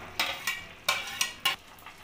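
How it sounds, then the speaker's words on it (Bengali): Fried eggs stirred into a chilli egg gravy in a wok, giving a handful of separate scraping strokes at an even pace, close and fairly quiet, with no voices. "এবার ভালো করে নাড়িয়ে আমি এবার ডিমগুলো যে ভেজে রেখে দিয়েছিলাম সেটা আমি দিয়ে দেবো কড়াইতে।"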